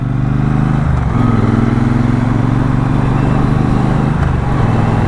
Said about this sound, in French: là j'ai doublé hyper facilement, sans monter dans les tours, avec le couple de la moto